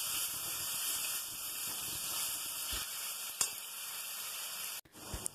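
Ginger, garlic and green chili paste frying in a pan, a steady loud hiss and sizzle running throughout, broken by a few sharp spits and a brief clatter near the end.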